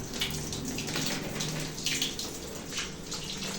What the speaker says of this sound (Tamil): இப்போ தண்ணி நல்லா கொதிக்கிட்டோம்